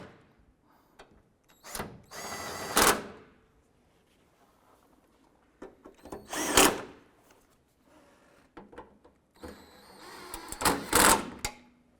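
A power tool snugs down headlight mounting bolts on a 2001-2007 Ford Escape, firing three separate loud whirring bursts of a few seconds each with quiet gaps between, close by and without talk.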